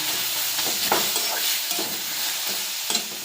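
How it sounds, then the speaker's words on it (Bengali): Fish oil heated in a pan and stirred steadily before eggplant goes in, giving a loud continuous sizzle with repeated scraping stir strokes close by. "এবার তেলটাকে মিক্স করে নাড়াচাড়া করতে করতে বেগুন দেব"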